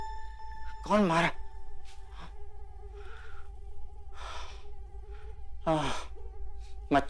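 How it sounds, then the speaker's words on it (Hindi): A mosquito whines with a thin, steady tone through a quiet room at night, rising and fading as it drifts close, broken by a few loud breathy sighs or snorts. "मच्छर।"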